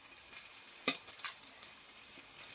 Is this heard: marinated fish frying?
yes